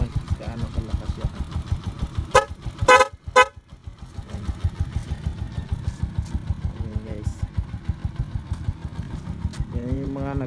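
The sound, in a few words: motorcycle horn honking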